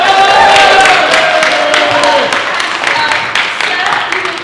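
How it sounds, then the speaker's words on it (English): Audience applause and crowd noise at a tea dueling contest at a steampunk convention, a dense steady clapping wash that stays loud throughout and eases slightly toward the end. "So a round of applause."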